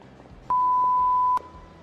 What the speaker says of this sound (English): it's just making random beeps